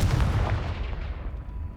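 A Confringo fire spell blast from the Hogwarts Legacy video game: one loud booming burst at the start, then a rumbling, crackling tail that fades over a couple of seconds, with no voices.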